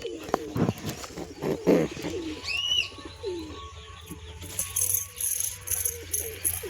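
Nesting pigeons with eggs give close, throaty coos and rattling calls in short bouts, with a few brief chirps from other birds, and no talk.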